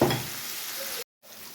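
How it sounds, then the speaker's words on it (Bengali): Spice masala for a prawn curry sizzles and fries steadily in a pan, a close, continuous hiss that cuts out briefly before resuming. "এই তো মশলা কষাচ্ছি"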